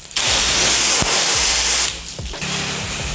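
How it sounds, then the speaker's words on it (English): Pressure washer spraying a stucco house wall, a loud, close, broadband hiss of water jet that cuts out briefly near the start and middle, then resumes slightly softer with a motor hum beneath. "When I'm spraying around an electrical box like that, I try to be very brief with my application."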